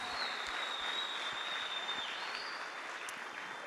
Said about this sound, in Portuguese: Salva de palmas para elas.